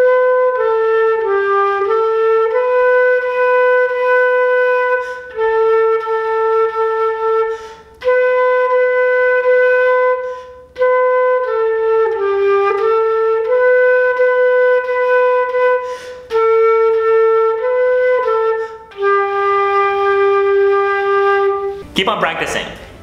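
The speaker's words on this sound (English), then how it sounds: "See if you can figure out Mary Had a Little Lamb using those three notes." A solo flute plays Mary Had a Little Lamb on three notes starting on B, with clear sustained tones stepping in the familiar rhythm and short breaths between phrases.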